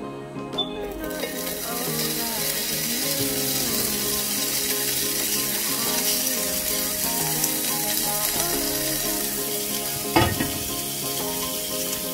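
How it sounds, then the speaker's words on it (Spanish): Bacon slices sizzle and fry steadily in a hot skillet, a dense continuous crackle throughout with a brief louder clink near the end, no talking. "Mientras el tocino se está friendo"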